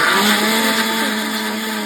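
A kitchen mixer grinder whirs loudly and continuously as it blends cooked tomato chutney with coriander leaves in a mixie jar, a steady high-speed motor whine with no talking.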